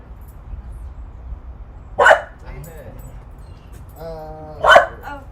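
A small, chunky dog named Maverick gives two sharp, loud barks a few seconds apart, with a quieter yip in between, over a low background hum and a brief bit of nearby voice.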